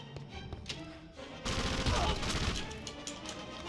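Gunfire in the Indiana Jones and the Emperor's Tomb video game, a dense burst of rapid shots rising loud in the middle of the clip over a busy game soundtrack, with no talk.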